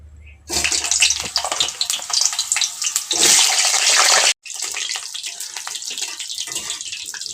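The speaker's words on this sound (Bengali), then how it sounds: "সেই আলুগুলোকে আমি ভেজে নেব।" Potatoes fry in hot mustard oil in a kadai, giving a loud, continuous, close sizzle that swells midway, breaks off for an instant, then carries on steadily.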